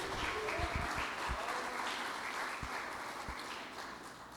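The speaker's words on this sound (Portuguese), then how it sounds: "irmãos, aplauda Jesus" A church congregation applauds during a sermon, a steady wash of many hands clapping at a moderate distance, with a few louder thumps early on and little talk.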